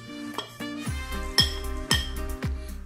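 A spoon scrapes and clinks against a pan while stirring fried leftover chapati upma with roasted coconut and cashews, several distinct metallic strikes at a steady pace up close, no voices.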